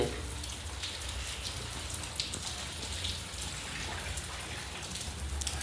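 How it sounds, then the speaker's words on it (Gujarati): Light rain falls in a steady, soft patter across the whole stretch, even and moderately close, with no voices. "કારણ કે વરસાદ ધીમો ધીમો વરસી રહ્યો છે"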